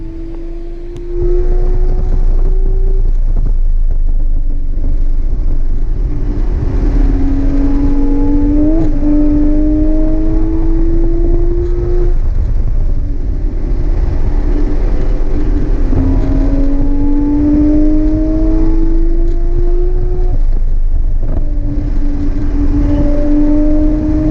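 A loud Porsche 911 GT3 RS (991.2) engine revs and shifts through gears repeatedly at Lime Rock race track, pitch climbing and dropping as it laps, heard steadily at a distance.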